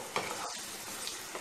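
Onion paste being stirred and frying in a pan for aloo masala fry, a steady close sizzle with scraping stirs through a short stretch, no talk.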